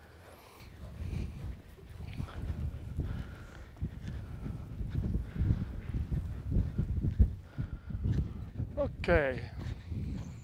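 Horse hooves striking arena ground during a jumping session, a steady rhythmic thudding of strides close by, with people talking over it.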